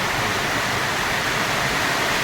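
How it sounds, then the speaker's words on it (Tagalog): Rainwater pours steadily into a catfish pond, a continuous close rushing splash with no pauses or speech. "Nagpapasok na ng tubig uli."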